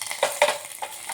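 Tempering of spices and curry leaves frying in hot oil for a traditional chutney, a close steady sizzle with brief stirring scrapes, with no voices.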